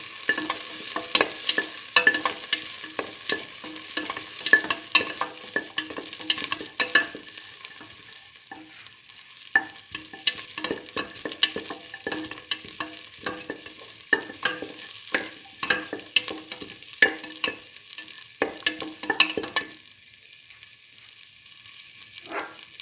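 Food sautés in a pan for a split chickpea tomato toast sandwich, with rapid, irregular spatula scrapes and taps over a continuous sizzle for over twenty seconds. It stays close and fairly loud, briefly quieter near the end, with no speech.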